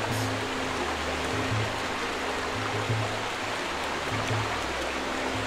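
A waterfall in the video game Pokémon Violet rushes with a steady, broad wash of water noise, continuous and moderately loud throughout, with no voices.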